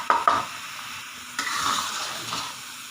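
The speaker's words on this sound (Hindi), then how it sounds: "अभी हम इसे ये दूध खुश्क होने तक पकाएंगे।" Grated carrots simmering in milk for gajar ka halwa, cooked uncovered over high heat, stirred with a few scraping strokes over a soft, steady bubbling sizzle; close and moderately loud, with no talking.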